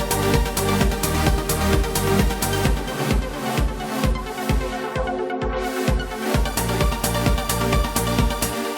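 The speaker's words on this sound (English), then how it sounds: "the pad will be compressed by the pattern of the kick drum" Yamaha Montage synth pad ducks and swells in a steady pumping rhythm, sidechain-compressed by a driving four-on-the-floor kick drum, loud and continuous dance-style pattern.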